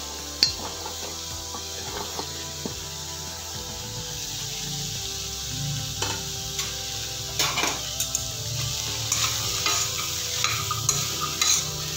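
Carrots and beans stir-fried in a pan for a mixed vegetable fry. There is a steady close sizzle throughout, with spatula scrapes and clinks against the pan and no talking.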